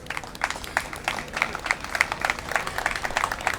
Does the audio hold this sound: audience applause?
yes